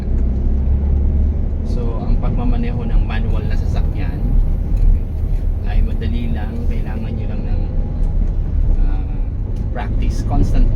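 A car engine hums steadily through slow traffic over speed humps, its drone rising and dipping as the driver shifts from first into second gear, with someone talking over it throughout.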